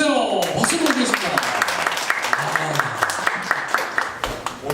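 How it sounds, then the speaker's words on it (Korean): Studio audience applauding at a Korean talk show as a product designer is called to the stage, dense steady clapping filling the clip over a background voice and music. "박수 부탁드리겠습니다."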